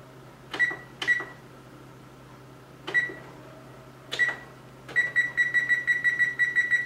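Oven control panel beeping as the oven is switched on while pizza dough is prepared: four separate single beeps spaced out, then a quick run of eight or so rapid beeps, close and clear.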